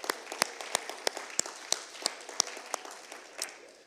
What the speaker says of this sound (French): Donnez une bonne main d'acclamation au Seigneur.